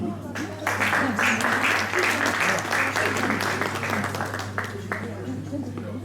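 A church congregation at a wedding ceremony breaks into sustained, dense applause that swells and then slowly thins, with a voice speaking over the clapping.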